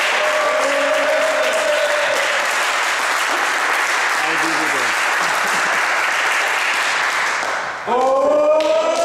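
Sustained crowd applause and cheering at a basketball final, loud and continuous throughout, with a brief dip near the end before the clapping swells again.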